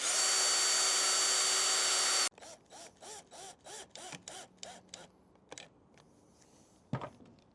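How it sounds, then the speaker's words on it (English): A power drill pre-drilling into plastic whines steadily for a couple of seconds, then gives a series of short rhythmic bursts as it bites in, ending with a click. "I'm going to pre-drill it just so I don't break the plastic."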